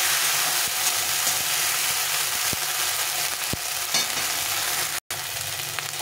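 Ground spice paste with a splash of water is sautéed in a pan for a fish dish, giving a steady moderate sizzle with scattered spoon clicks and scrapes and one brief dropout, with no talk.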